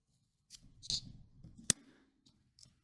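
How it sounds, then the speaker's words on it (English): Scissors snip through a length of yarn while an amigurumi penguin is being crocheted, giving one sharp, close click with a few softer rustles and handling sounds around it, in an otherwise quiet room. "we can cut a long piece of yarn"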